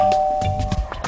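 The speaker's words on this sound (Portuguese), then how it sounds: "Quem tocou a campainha?" A doorbell chimes inside a home, a sustained ringing tone that carries through the whole moment, accompanied by a few dull thumps and knocks.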